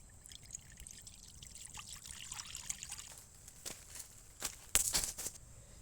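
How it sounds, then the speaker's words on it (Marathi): Water poured into a hot wok set over a campfire outdoors, a soft trickling stream that builds into sharper splashing bursts near the end, close by with no talk. "पाणी टाकूया"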